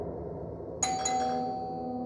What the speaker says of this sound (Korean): 여자의 집에 누군가 초인종을 눌렀다